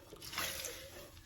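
A camping cooking pot is rinsed out with water on an Appalachian Trail thru-hike: one brief, faint splash and slosh of water, heard alone and up close.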